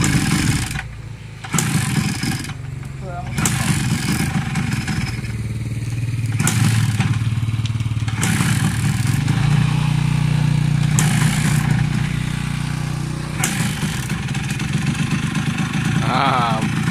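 Kawasaki KH100 motorcycle engine running steadily with a low, continuous drone, while people talk nearby over it throughout.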